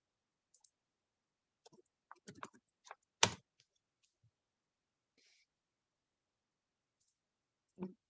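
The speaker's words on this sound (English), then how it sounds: "So I typed in cherries" The word "cherries" typed on a computer keyboard in a quiet room: a handful of faint, scattered key clicks with one sharper tap, sparse and close.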